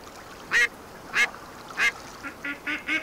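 Ducks quack in the hunting game Way of the Hunter: seven short, fairly faint calls spaced through the scene, the last four coming in quicker succession over a quiet outdoor background.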